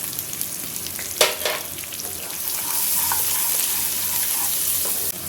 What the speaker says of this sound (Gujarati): હવે આપણે એમાં કાંદા નાખશું